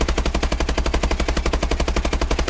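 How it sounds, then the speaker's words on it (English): Rapid automatic fire from the Bal-27 assault rifle fitted with an ACOG sight in Call of Duty Advanced Warfare, a steady fast stream of loud, closely spaced shots lasting throughout with no pauses and no talking. "Here's the Bal-27 normals recoil with an ACOG sight on it."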